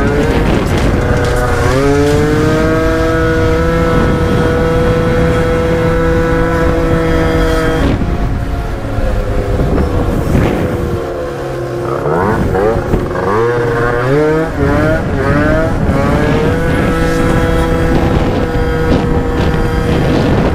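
A Gilera scooter fitted with a Stage6 70cc kit revs hard under throttle, its engine note climbing and dropping repeatedly in a loud, continuous, buzzing whine, heard close up with no talking.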